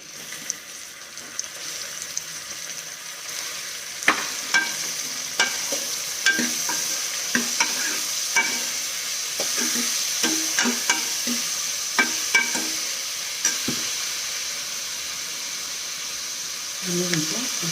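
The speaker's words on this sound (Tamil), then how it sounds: "நல்லா வதக்கினே இருக்கணுங்க. நல்லா வெங்காயம் எவ்வளோ வதங்குதோ அவ்வளோவும் டேஸ்ட்டாக இருக்கும்." Onions for chicken gravy sauté in a pan under a steady sizzle, with a spoon scraping and knocking against the pan in repeated sharp strokes. The stirring sounds close and moderately loud.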